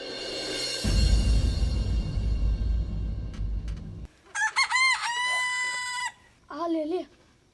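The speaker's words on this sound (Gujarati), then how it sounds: "આ લે લે કુકડો બોલ્યો પણ આ કુકડો તો વેલા 4 વાગે બોલે." A rooster crows twice, loud and near, after a stretch of noisy rustling and background sound, with the second crow shorter.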